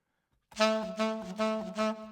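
A saxophone plays a short bouncy phrase of four quick notes, close and clear, alone.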